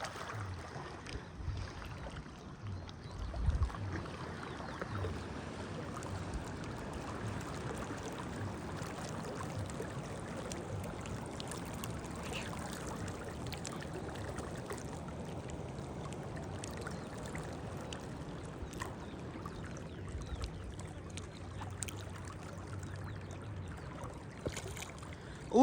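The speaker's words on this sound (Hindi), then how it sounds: "ये हमारे गांव का सैलाब है खतरनाक" Floodwater rushing through a village in a hilly area, a steady broadband roar of flowing water that stays even and continuous throughout, close by, with no talking.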